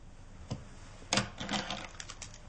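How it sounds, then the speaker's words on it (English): A set of keys dropped into a box, a few light metallic clicks and jingles close by, with a brief cluster of taps spread over a couple of seconds. "Put the keys in the box."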